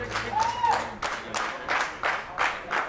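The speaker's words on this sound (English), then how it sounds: "Give a big round of applause" Audience applause at a redfish fishing tournament weigh-in in Aransas Pass, Texas, steady clapping from a crowd continuing for a few seconds at moderate loudness, with faint voices mixed in.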